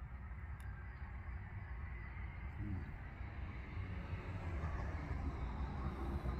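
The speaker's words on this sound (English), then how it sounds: "You can hear the traffic going by." Road traffic passes by outside a country property on a 40 zone road, a low, distant rumble that swells gradually as a vehicle approaches, heard without talk.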